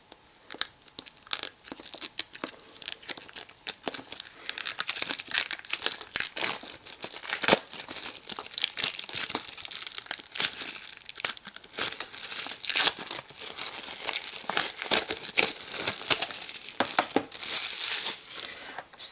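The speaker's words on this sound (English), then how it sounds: "we'll unbox this. By ripping a hole to the back" Security packaging of a PSP UMD movie being ripped open from the back. Close, continuous crinkling, tearing and crunching of plastic and paper with dense irregular rustles throughout.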